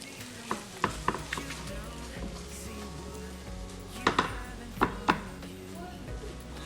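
Egg and chorizo being stirred in a frying pan, a soft steady sizzle broken by a few sharp utensil scrapes and clacks against the pan, close and fairly quiet.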